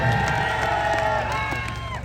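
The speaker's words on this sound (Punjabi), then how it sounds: "ਜੇ ਪਿਆਰ ਕਰਦੇ ਹੋ ਲੱਕੀ ਨੂੰ ਤਾਂ ਇੱਕ ਵਾਰੀ ਤਾੜੀ ਮਾਰ ਕੇ ਦੱਸੋ ਸਾਰੇ" An outdoor crowd at a tractor trolley-pulling contest claps and cheers for a participant named Lucky, a busy wash of hands and voices with tonal, sustained sounds running through it.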